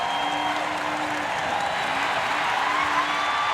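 A women's college basketball crowd in a March Madness game cheers as Gonzaga takes the lead, a loud, steady roar of clapping and whoops that fills the arena without a break, with faint whistles or calls threaded through.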